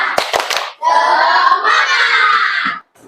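A primary school class does a rhythmic spirit clap in a grade 5 lesson: a few sharp claps, then a sustained chanting burst of children's voices with clapping, ending abruptly.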